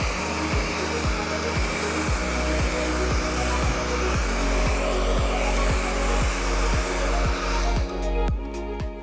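A hair dryer blows a man's hair, roaring steadily and close the whole way through, with a faint pulsing rhythm as the airflow shifts around the head.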